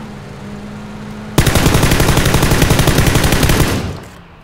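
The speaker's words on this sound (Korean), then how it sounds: "샷소리" Automatic gunfire in PUBG on a test-server map: after a quiet stretch, a loud sustained burst of rapid, evenly spaced shots rattles for over two seconds, then cuts off.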